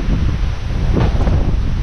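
Strong typhoon wind roars and buffets the microphone in one loud, continuous rushing blast with gusty swells, with no one speaking.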